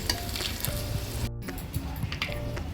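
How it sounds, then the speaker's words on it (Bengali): Close, steady sizzling of chicken pieces frying in a little oil in a kadai, with soft stirring and light popping throughout. "অল্প তেল দিয়ে এগুলোকে একটু মানে ভেজে নিচ্ছি"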